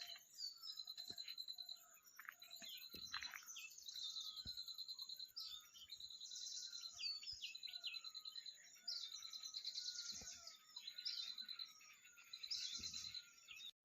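Birds chirping in a mountain village in the early morning, with many small repeated tweets and trills layered over a steady insect-like buzz, faint and distant, with occasional soft knocks and no voices.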